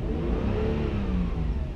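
A 3.0R car engine revs steadily up toward its rev limiter at about 4,500 rpm, a loud, close, continuous mid-pitched drone with a rising whine and no voices.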